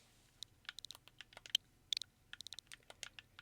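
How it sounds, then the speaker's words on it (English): Quick bursts of keyboard-style clicks as a name is typed on the Nintendo Switch on-screen keyboard in the OFF remake game, irregular taps in short clusters with brief pauses, clear and close with no talking. "Oh, I get to type it in."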